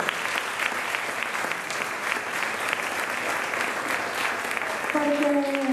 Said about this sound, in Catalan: feu un aplaudiment molt fort per aquesta festa de Sant Roc